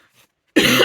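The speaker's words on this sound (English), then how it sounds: "I've had a cough for the past couple of weeks" One sharp, dry cough bursts out loud and close after a moment of near silence, from a person whose throat is dry after weeks of coughing.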